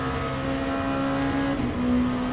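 Ferrari race car engine in the racing game Le Mans Ultimate, a steady sustained high drone from a car at speed that rises slightly toward the end, loud and close with no talking.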